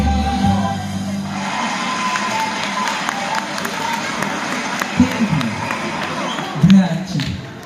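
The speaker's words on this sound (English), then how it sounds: "That's the sound of applause." An audience responds to a singing performance with a continuous wash of applause and cheering, with occasional shouts and thumps rising above the crowd noise.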